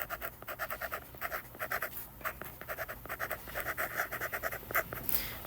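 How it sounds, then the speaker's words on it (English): Marker squeaking and scratching across a board in short rhythmic strokes while writing in red, close and fairly quiet, with no voice. "I'll write it in red because it's the same."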